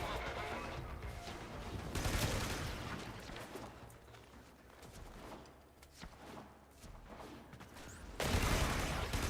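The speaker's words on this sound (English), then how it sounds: "I don't know what that explosion was." Loud bursts and crashing blasts from an explosion in the video game Warframe, layered with rapid gunfire-like crackle that swells, eases off, then surges again near the end.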